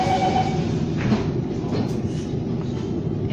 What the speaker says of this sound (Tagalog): Dito dumadaan yung train.